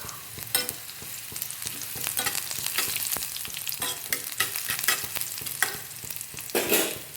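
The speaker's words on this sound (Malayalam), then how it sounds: "നമ്മൾ അതുപോലെ ലോ ഫ്ലെയിമിൽ വെച്ചിട്ട് വേണം ഈ കടുക് വറുക്കണതെല്ലാം ചെയ്യേണ്ടത്" Mustard seeds crackle and pop in a hot iron pan over a low flame while being tempered for horse gram rasam, with a continuous close sizzle broken by sharp bursts and occasional stirring scrapes.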